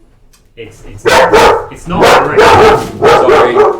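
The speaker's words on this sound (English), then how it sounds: "Really, really sorry about the dog." A dog barks close and loud in a quick series of sharp, repeated barks mixed with yips, while a person talks over it.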